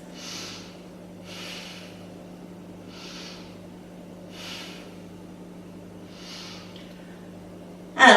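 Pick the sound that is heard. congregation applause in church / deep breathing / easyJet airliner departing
deep breathing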